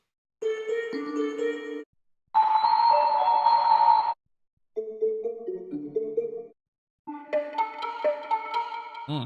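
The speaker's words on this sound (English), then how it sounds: "they have some really nice bell sounds" Bright synthesized bell tones play in short melodic phrases, separated by brief silences, each with shimmering, ringing overtones.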